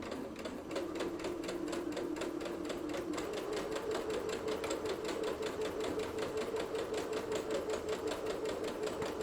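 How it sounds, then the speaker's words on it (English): A Singer computerized sewing machine stitches steadily with a back stitch, giving a fast, even mechanical chatter close by that keeps a constant level throughout, with no talking. "And then I'm going to just sew real quick. So we're going to do a little back stitch at the beginning."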